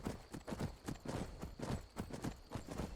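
A horse's hooves clip-clop in a steady walking rhythm while ridden in the fantasy game Skyrim, close and fairly soft, alone.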